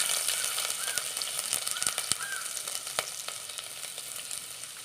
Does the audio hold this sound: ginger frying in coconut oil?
yes